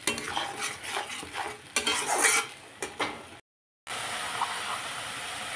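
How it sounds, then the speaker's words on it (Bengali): A utensil stirs and fries spice paste with turmeric and salt in a hot pan, giving repeated scraping and clinking strokes over a steady sizzle, with a brief silent gap before the frying resumes. "এখন আমি মশলাটাকে ভালোভাবে কষিয়ে দেব"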